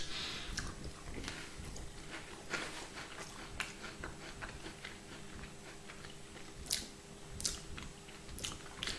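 Soft, drippy barbecue vinegar crisps are chewed close and quietly, with a string of faint crunches and bites over about nine seconds.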